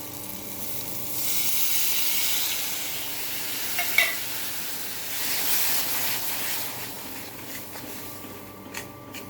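Spice paste and water simmer in a pan for a spicy eggplant curry, giving a steady soft sizzling hiss with occasional light stirring clicks and a single brief clink, close and alone without voices.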